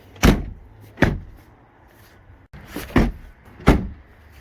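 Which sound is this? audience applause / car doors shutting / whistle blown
car doors shutting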